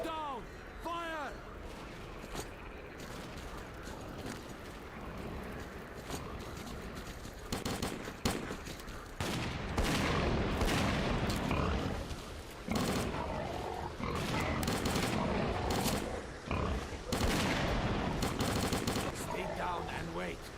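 A volley of gunfire erupts amid shouted commands, loud overlapping bursts of shots crackling in dense clusters through the second half, with voices calling out beneath the barrage.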